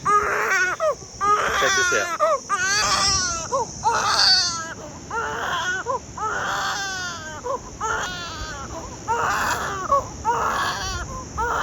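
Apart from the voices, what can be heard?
baby screaming and crying in the van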